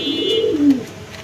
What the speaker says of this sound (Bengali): একজোড়া কবুতর এর কি কবুতর এটা আমেরিকান শার্ডিং বলে কাকা